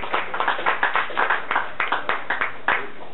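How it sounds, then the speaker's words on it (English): Scattered hand clapping from a small audience inside a country-music record shop, a sparse run of individual claps with a loose, uneven rhythm, fairly near and without voices. "Would you please give a nice hand, nice round of applause, if you would"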